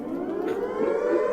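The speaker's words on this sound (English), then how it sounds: "air raid sirens." Air raid sirens wail in a steady, droning tone with layered pitches, loud and continuous throughout, with no voices over them.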